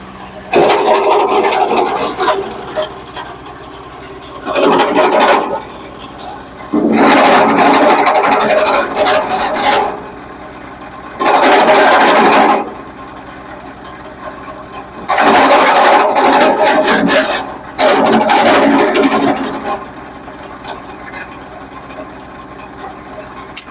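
A PAICHE wood chipper's engine runs steadily throughout, with several loud bursts where the machine bites into wood as firewood is chipped for a neighbour.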